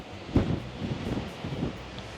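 Strong, blustery wind at sea aboard the MSC Virtuosa cruise ship, a steady broadband rush with gusty swells and buffeting against the microphone, with no voices.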